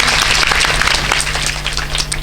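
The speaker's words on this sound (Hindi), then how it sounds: "एक बार जोरदार तालियां।" A crowd at a Buddhist storytelling event gives a short, loud burst of applause, a dense patter of hands heard up close throughout.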